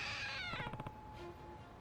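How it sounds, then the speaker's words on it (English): A trick cat statue in the Lost Judgment video game gives a single clear, drawn-out meow, with harmonics stepping down, followed by a quieter rhythmic pulsing and a faint tone. "It meowed, so it's a trick statue."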